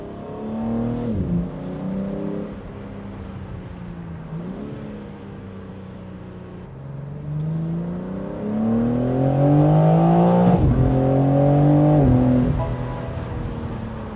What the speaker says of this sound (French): On entend vachement les turbos souffler